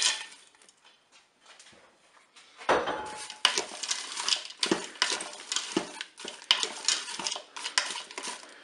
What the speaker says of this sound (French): Je vais pouvoir maintenant ajouter les haricots verts.